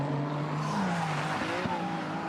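Ferrari 296 Challenge race car at speed on the Autopolis circuit in a Ferrari Challenge Japan race, its engine droning steadily with shifting pitch across the whole stretch, fairly faint and steady with no talk.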